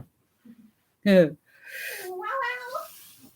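A cat named Chase gives a short, close meow followed by a longer, wavering cry in an otherwise quiet room.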